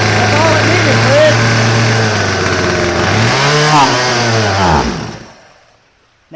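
A Stihl chainsaw engine runs loud and close at a steady idle, briefly revving up and down near the end before cutting off into silence.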